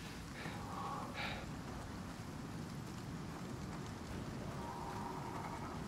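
A rainstorm in the Icarus video game: a steady, even hiss of heavy rain with low rumbling underneath and a few faint tonal game sounds drifting over it.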